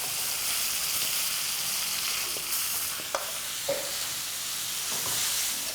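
Spinach ghonto mixture goes into a pan of frying garlic, giving a steady, fairly close sizzle with a few soft clicks and scrapes from stirring. No voices are heard.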